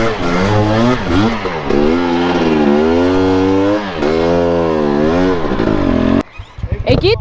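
Loud motorcycle ridden through Utah terrain, the engine revving up and down in repeated rising and falling surges close to the rider, then cutting off abruptly to wind and rustling.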